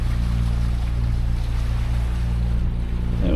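Steady droning rumble of a sailing boat motoring at sea on one engine at about 70% RPM, with wind and water noise, continuous and loud throughout.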